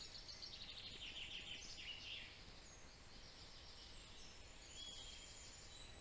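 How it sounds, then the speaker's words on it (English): Many birds chirp and twitter in a forest on a calm, dry morning near a campsite, the high calls overlapping densely at first, then thinning to scattered distant notes over a soft background hush. "loads of birds chirping again"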